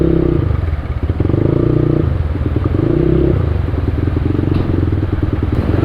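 A scooter rides through a flooded street in Malolos City, its engine running steadily and loudly close by, with intermittent clattering over the continuous drone.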